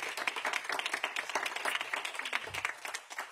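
Brisk, close audience applause at a mayoral announcement event, a steady patter of many hands that eases slightly toward the end.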